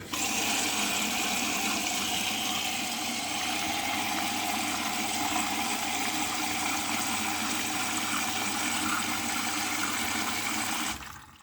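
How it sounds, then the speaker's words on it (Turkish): Clean water pours steadily into a washing machine's fabric softener compartment as it is rinsed, a loud, continuous splashing rush that lasts for about eleven seconds before stopping abruptly. "İlk önce makinemin yumuşatıcı haznesini temiz bir suyla temizleyelim, duru suyla."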